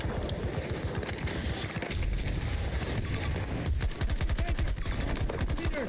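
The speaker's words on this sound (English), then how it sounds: "The burst fire." Burst-fire weapon shooting in Battlefield 2042, dense rapid gunfire running throughout, with tighter clipped bursts toward the end amid constant battle noise.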